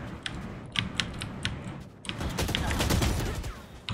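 Rapid gunfire in the shooting game Valorant, with bursts of quick clattering shots over a dense, steady game soundscape.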